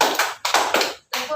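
A group of people claps hands together in quick bursts during a classroom clapping game, about five sharp, near claps with brief gaps and a voice in the background.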